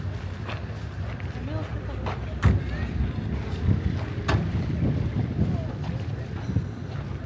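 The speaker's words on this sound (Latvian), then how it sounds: "Vējaina diena šodien." Gusty wind buffets the microphone in a steady rumbling rush on a jeep desert safari in Egypt, with a low engine drone and faint voices underneath.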